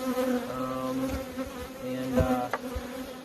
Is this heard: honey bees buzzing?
yes